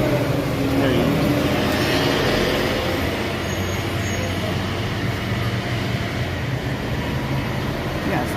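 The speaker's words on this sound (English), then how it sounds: "Let me wait for the truck to pass" A truck passing on a road outdoors: a broad, continuous rumble and roar at steady loudness that fills the whole stretch, with no clear peak or fade.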